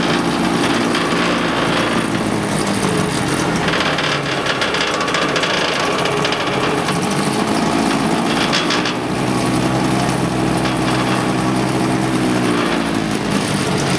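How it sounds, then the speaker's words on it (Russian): A Tohatsu outboard motor idles just after starting, a steady high buzzing engine drone with a slightly wavering pitch running loud and continuous throughout, no talking. "Мотор только завели, а он уже ровно работает."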